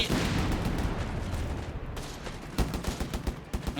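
Machine gun fire from a well-crewed team in Company of Heroes 3, dense battlefield rattle with overlapping bursts and distant booms, loud and continuous, sharper clustered bursts near the end.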